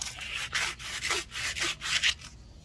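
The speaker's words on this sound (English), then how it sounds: "Any lead dust you just made from sanding." Sandpaper is rubbed by hand over a lead deep-drop fishing weight, scuffing the metal in about six rhythmic back-and-forth strokes, close and clear with short pauses between them.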